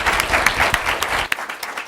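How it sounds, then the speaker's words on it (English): An audience gives a closing panel on the future of work in the sharing economy a round of applause, dense and fairly loud claps that thin out slightly near the end, with a few sharp individual claps standing out. "please join me in giving our panel a round of applause"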